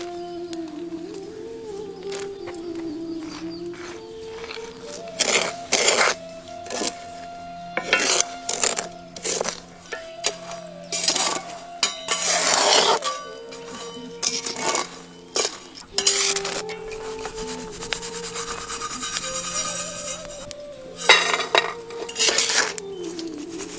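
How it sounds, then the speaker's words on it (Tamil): Peanuts roasting in hot sand in a metal pan, stirred with repeated scraping, rattling and clinking bursts in an irregular rhythm, close and fairly loud, with no talking. "கள்ளக்கொட்டைய மணலில் சேர்த்து வறுக்க ஆரம்பிச்சிடலாம்"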